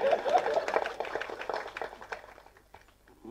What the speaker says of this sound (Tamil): அதனால் நீங்களே தயவு செஞ்சு அதில் கைத்தட்டிடுங்க.